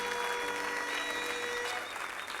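A church congregation applauds together through a sermon, a steady, dense wash of clapping that stays loud and even from start to finish with no voices rising above it.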